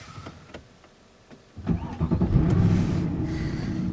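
A 2011 Mercedes C63 AMG engine cranks with a few clicks, then fires up into a deep, loud rumble that settles into a steady idle, close by.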